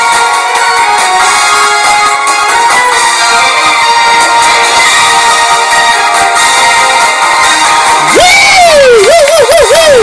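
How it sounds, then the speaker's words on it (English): A studio audience at a live comedy show cheers, whoops and claps loudly and continuously, with a sharp rising shout near the end. "They are cheering!"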